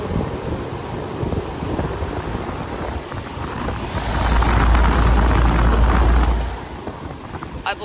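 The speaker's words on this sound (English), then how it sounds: "I believe this unit has a Copeland reciprocating compressor under a sound blanket." A 1988 Carrier Round One 38LE outdoor air conditioner with a Copeland reciprocating compressor under a sound blanket runs with a steady low hum and fan whoosh, swelling louder in the middle before settling back, with wind noise throughout.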